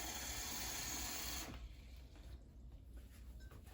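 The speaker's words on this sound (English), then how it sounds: "now I'm gonna get a cup of water" Water from a kitchen tap runs steadily into a cup for about a second and a half, a loud close hiss that stops abruptly, leaving quiet room noise.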